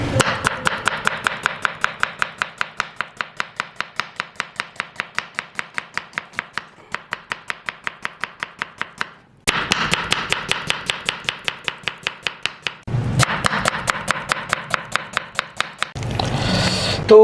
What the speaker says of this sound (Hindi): इसको हम बारीक बारीक काट लेते हैं।